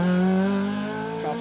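Rally car number 49 passes on an asphalt stage of Rally Ceredigion, its engine loud and close with a strong tonal drone that slowly falls in pitch as it moves away, then a brief engine surge near the end.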